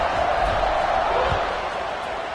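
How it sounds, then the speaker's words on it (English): Football stadium crowd at a Florida State game buzzing after a score and extra point, a steady loud roar of many voices filling the space, with a play-by-play commentator talking over it. "this crowd is buzzing after that last score"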